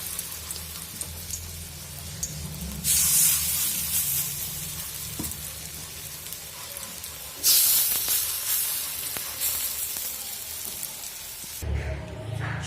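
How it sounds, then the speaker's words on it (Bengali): Masoor lentil fritters fry in hot oil over a medium-to-low flame. A loud, continuous sizzle swells into two stronger hissing bursts, with occasional stirring, then cuts off abruptly near the end. No one speaks. "এইরকমভাবে আমি বাকি বড়াগুলো ভেজে নেব।"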